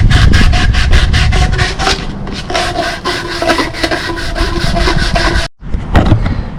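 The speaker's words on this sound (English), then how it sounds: "I'm going to sand this down to where it'll slide in enough to where I can concrete it in with the PVC concrete glue" Rhythmic back-and-forth scraping of sandpaper on PVC pipe, close and loud, with quick even strokes, a brief pause, then a few more strokes.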